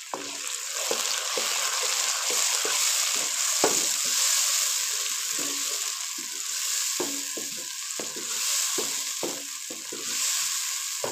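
Tomatoes frying in a pan with garlic and ginger, a steady close sizzle throughout with repeated scraping and stirring clicks at an irregular rhythm, no talking.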